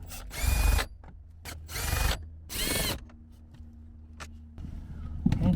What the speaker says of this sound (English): the rest of those three bolts, we're gonna remove it with the 10mm socket